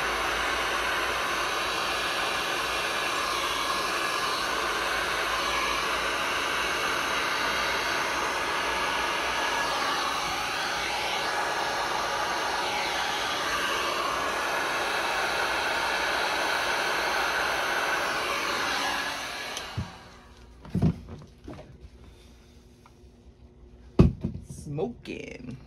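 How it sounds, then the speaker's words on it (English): A heat gun blows hot air over a resin tray, a loud steady roaring hiss that runs for about twenty seconds, then cuts off, leaving a few thumps and clatters. "Heat gun is really hot."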